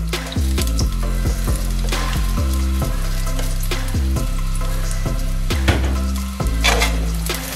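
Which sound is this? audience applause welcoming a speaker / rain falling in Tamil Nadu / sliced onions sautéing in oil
sliced onions sautéing in oil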